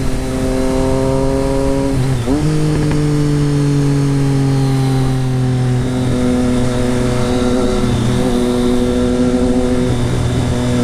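Triumph Street Triple motorcycle with a Racefit Growler straight pipe exhaust, engine note steady and near with a brief dip and rising rev partway, loud throughout with little pops mixed into the drone.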